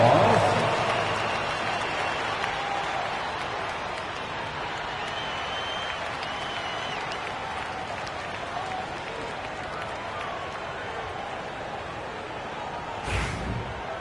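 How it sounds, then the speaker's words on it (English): Simulated arena crowd applause and cheering during a Dance Cam break in a basketball video game, a steady, loud roar of clapping and crowd noise sustained throughout, with a brief louder burst near the end. "Give yourself a big round of applause."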